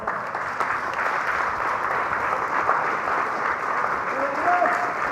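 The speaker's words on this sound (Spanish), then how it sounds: "Alábale, dale fuerte el aplauso." A church congregation applauds steadily and loudly throughout, a dense wash of clapping with a faint bit of voice near the end.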